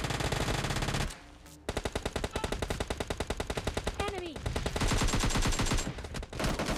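Rapid automatic fire from an AKM rifle in the video game PUBG Mobile Lite, long bursts, loud and close, with a brief pause after the first second before the shooting resumes.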